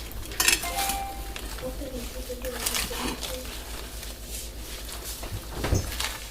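Metal utensils scraping and clinking in a bowl while a lentil salad with cheese and lardons is mixed, a steady close stir with occasional knocks against the dish.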